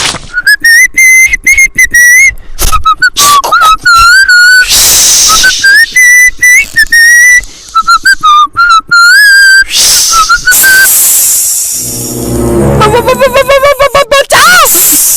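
A person whistles in a comedy skit, trying to charm a snake: loud, shrill, repeated whistled notes and short trills come close up, with a brief rougher noisy stretch near the end.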